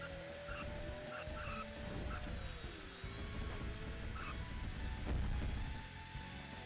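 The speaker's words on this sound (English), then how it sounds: "Sounds like a jet engine. You hear the turbo winding up." Racing car engine in the video game Gadget Racers, a rising turbo whine winding up over a dense, loud roar of engine and tire noise that continues without a break.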